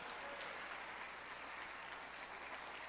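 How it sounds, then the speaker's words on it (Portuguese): Church congregation applauding the Lord during a Portuguese-language sermon, a steady, dense wash of clapping that fills the whole stretch at even loudness with no break. "Você pode dar um aplauso ao Senhor?"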